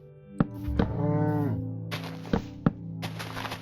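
A cow in the Minecraft video game gives a long drawn-out moo at close range, set among a few sharp thunks and clicks of game action, with no talking.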